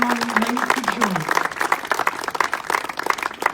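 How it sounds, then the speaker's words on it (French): An audience at a heritage festival day in Saint-Valery-en-Caux applauds, a moderate wash of clapping with distinct individual claps, while a voice is heard at the start. "On peut les applaudir"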